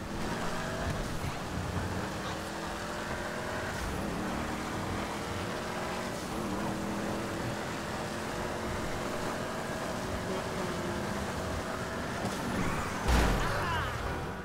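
A Dodge Daytona muscle car drives in the rain with a rumbling engine, revs rising and falling across gear shifts under a steady wash of rain and road noise, with a brief thump near the end.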